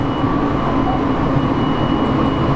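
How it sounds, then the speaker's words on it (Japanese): A loud, constant low rumble and hum of the underfloor motor on the Sunrise sleeper express fills the cabin, steady throughout. "床下にモーターが設置されています。 この音は客室にも少なからず伝わってくることになります。"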